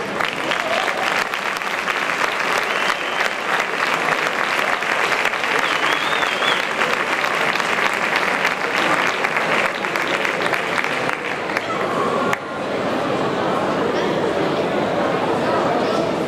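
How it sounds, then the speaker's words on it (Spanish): A large audience at a Santa Cecilia music competition claps steadily and loudly, a dense sustained applause that continues without a break. "Por favor, un fuerte aplauso."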